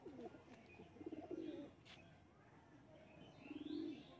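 A female pigeon coos in a quiet setting where pigeons are kept, soft throaty rolling coos in two or three bursts with pauses between, faint and close, alongside light background rustling.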